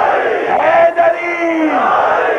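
A large crowd at a religious sermon gathering chants a religious slogan with raised hands. A loud, massed roar of voices rises and holds.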